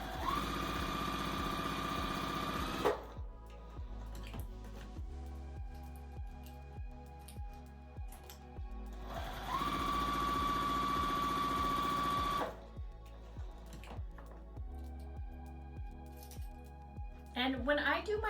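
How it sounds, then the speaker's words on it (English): Sewing machine stitching seams on either side of a marked line across half square triangle quilt pieces, running in steady whirring bursts at close range with brief pauses between, alone without talk. "I'm going to sew on either side of that blue line"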